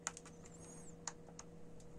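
Keys pressed one after another on a ZX Spectrum keyboard, a series of light, close, irregular clicks and taps with a faint electronic whine underneath.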